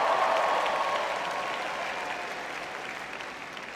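A large crowd at a university engineering commencement applauds and cheers, loud and dense, gradually easing off over a few seconds.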